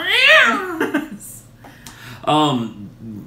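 Cats meowing and yowling at each other during a cold snap, two drawn-out cries with wavering pitch, one at the start and another near the end, loud and close, with some human speech and laughter mixed in.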